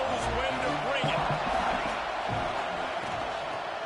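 Football stadium crowd at a Kentucky at Georgia college game roaring in a broad, sustained wash of cheering with distant whoops, under a play-by-play commentator's voice.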